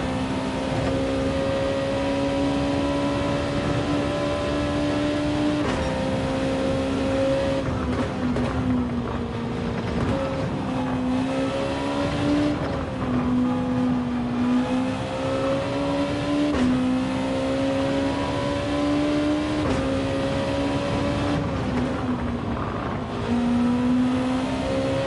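Race car engines in Gran Turismo 7 drone steadily throughout, with sustained tonal whine rising and dropping as cars shift gears and rev, loud and continuous with no talk.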